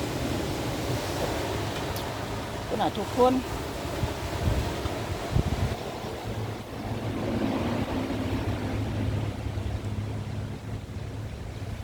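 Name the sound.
strong sea waves and wind on a beach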